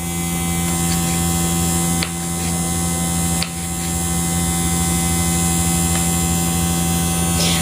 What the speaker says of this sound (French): Alors c'est le ventilo.